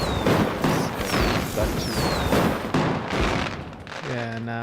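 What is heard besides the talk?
fireworks in the video game Enshrouded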